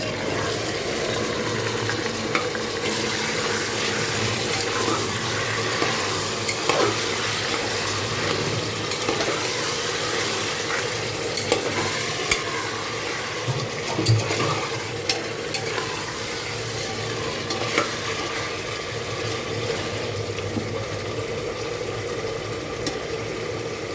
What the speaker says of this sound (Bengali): এখন আমি এখানে চিকেন দিয়ে দিচ্ছি,